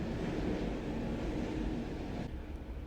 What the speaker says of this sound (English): please excuse the passing by tram